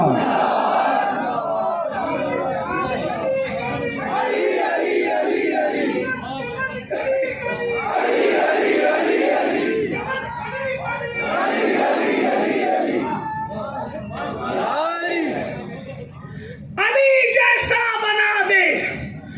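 A large crowd at a religious gathering roars chanted slogans back in bursts, answering a leader's calls. The loud, massed shouts alternate with stretches of a single voice speaking, and a final burst swells near the end.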